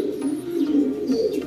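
Pigeons coo steadily in a breeding loft, a continuous low murmur of several birds close by, with no talking.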